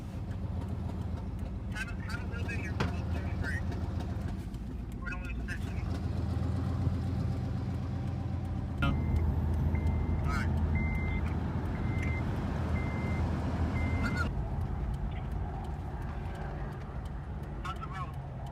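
Truck engine idling and rumbling at low revs while pulling a broken-down car, with reversing beeps chirping steadily and people talking over the drone.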